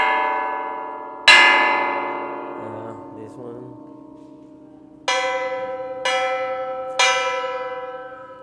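Hand-cut, welded metal sculpture pieces struck in a gallery, ringing out like bells: one loud strike with a long shimmering decay, then three more evenly spaced strikes later, each sustaining under a brief spoken remark.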